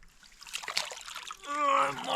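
A large Murray cod thrashes in the water beside a kayak as it is grabbed by hand, a close, loud burst of splashing and sloshing that swells near the end of the short stretch.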